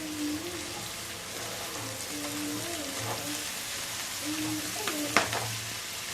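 Chopped fenugreek leaves frying in a pan for a vegetable methi rice, a soft continuous sizzle with light stirring scrapes and quiet background voices or music tones.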